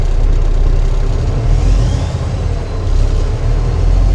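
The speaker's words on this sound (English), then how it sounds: "now we're going to start the truck" A semi tractor-trailer truck's engine idles just after starting, a loud, steady low diesel rumble close by with slight swells in level and no talking.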